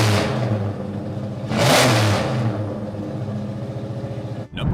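A powerful V8 muscle car engine revs hard, surging to a loud peak midway before dropping back to a rumbling idle, with a sharp cut near the end.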